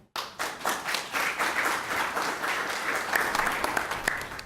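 Studio audience applauding on a Haitian Creole community radio broadcast, sustained dense clapping after a short pause at the start, steady and fairly close throughout.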